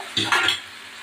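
Yogurt-marinated chicken for biryani dropped into a hot pan, a brief burst of sizzle and a clatter that quickly settles into a quieter fry.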